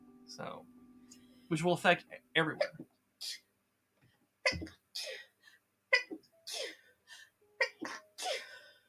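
A person sneezes several times in a row, sharp bursts scattered among stretches of conversational talk, close and fairly loud.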